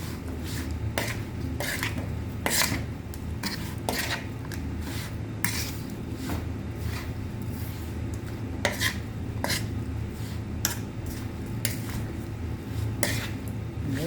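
Pots, utensils and stirring clatter as a seasoned mixture of small fish (pla siu), splashed with a little water, is put into a cooking pot and set on the fire; repeated sharp metallic knocks and scrapes over a steady low background, with no talk.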